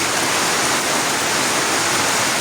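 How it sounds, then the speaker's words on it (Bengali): Heavy rain pours down in a village, a dense, loud, unbroken roar of falling water with no voices. "মুষলধারে বৃষ্টি শুরু।"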